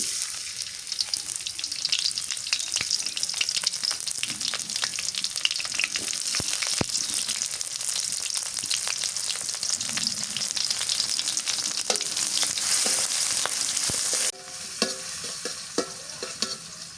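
Tomatoes fry in hot oil with a steady, bright sizzle that crackles throughout. Occasional stirring clicks sound close by, and the sizzle drops abruptly near the end.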